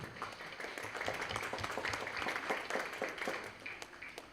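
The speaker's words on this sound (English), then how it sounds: "let's give a round of applause for this awesome PowerPoint" An audience claps at an autism show talk in Cardiff, giving a moderately faint round of applause that holds steady for a few seconds and then starts to thin out.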